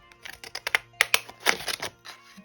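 Paper being cut with scallop scissors, a quick series of close, crisp snips and crunches in an irregular rhythm, with no talk over it.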